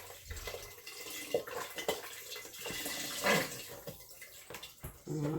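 Chicken broth pours from a quart carton into a soup pot with chorizo sausage, a splashing, gurgling liquid stream with a few knocks, heard fairly close with no talk.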